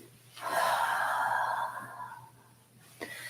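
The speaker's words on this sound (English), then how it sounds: "breathing out your mouth and in your nose" A long, soft breath drawn in through the nose, then released through the mouth, during a calming qigong session, ending with a brief sniff; quiet and close, with no talking.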